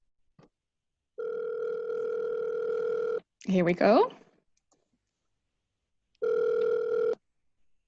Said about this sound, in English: You can also press on the phone button and then you will call.